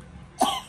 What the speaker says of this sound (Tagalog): Mga giubo man kaday.